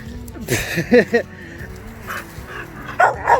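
A friendly female shelter dog yips, barks and whimpers in short, close bursts, with a person talking in between the vocalizations.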